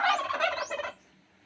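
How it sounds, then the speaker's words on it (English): A single turkey gobbles once, a short rapid rattling burst heard close and alone, fading into quiet. "turkey,"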